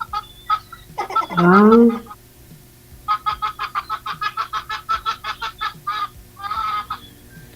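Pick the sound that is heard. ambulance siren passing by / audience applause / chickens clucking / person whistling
chickens clucking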